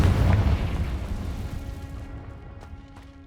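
Spell explosion in the video game Hogwarts Legacy, a loud booming blast right at the start that rumbles and fades out over a few seconds, heard alone without talk.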